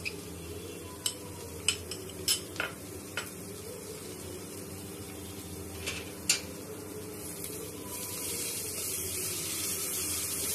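Ground masala paste sizzles softly in a pan, a steady low frying hiss under several sharp clinks of a metal spoon scraping and tapping the pan, the sizzle growing slightly brighter toward the end; no talking.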